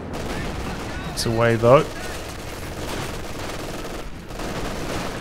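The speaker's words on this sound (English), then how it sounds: "machine gun coming in from the side" Machine gun fire in the Company of Heroes 2 video game, a dense, steady rattle of battle noise running throughout, with a brief burst of speech over it.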